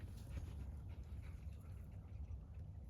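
A dog pants steadily and close by indoors, soft rhythmic breaths with faint whimpering mixed in over a low background hum.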